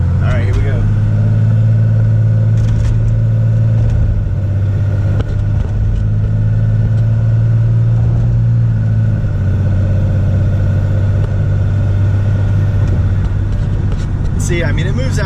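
A 2001 24-valve 5.9 Cummins diesel pickup truck with an Edge tuning box accelerates, its engine a loud, steady low drone that shifts in pitch as it pulls, with someone talking over it.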